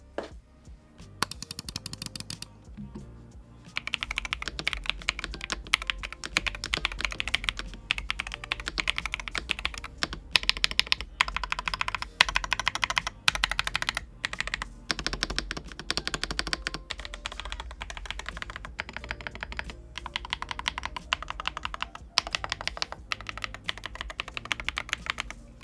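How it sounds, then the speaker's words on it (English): Close-up typing on a stock MAD60HE Hall effect mechanical keyboard, fast clacky keystrokes in bursts with brief pauses, crisp and fairly loud with no voices. "this keyboard actually does sound quite good stock"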